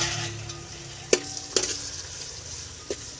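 Turmeric and salt being stirred into a sizzling tempering in a pan for batata poha: a continuous low sizzle broken by three sharp spoon scrapes against the pan, close by and without speech.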